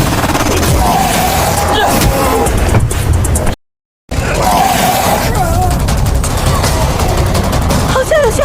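Gunfire in a film scene at sea as people shoot at the Kraken sea monster: loud, dense bursts of shots over a busy soundtrack, broken by a brief silent gap midway.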